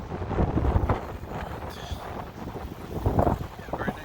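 Steady gusty wind buffeting the microphone at a beach in Punta del Este, Uruguay, a continuous rough roar that swells and dips throughout.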